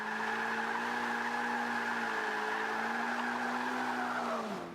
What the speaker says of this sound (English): It's basically just full throttle drifting.